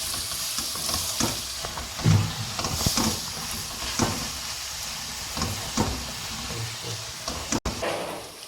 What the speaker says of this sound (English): now that this has been frying for about 3 to 4 minutes